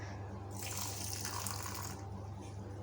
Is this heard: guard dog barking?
no